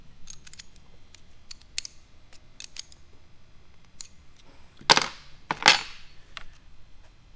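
Brass diff breather fittings being tightened on a Hilux with 10mm and 14mm spanners, heard as a few faint metallic clicks followed by two louder, close scraping ratchet-like bursts.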